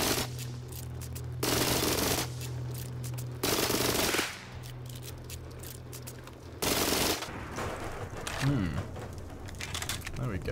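Bursts of explosive-ammo gunfire in Rust during a solo base raid, several loud rapid volleys separated by quieter gaps, with someone talking in between.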